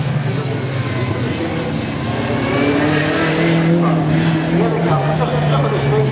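An Ecomobile enclosed motorcycle speeds up, brakes hard into a corner and hums away, its engine note rising and falling steadily over continuous traffic noise with someone talking over it.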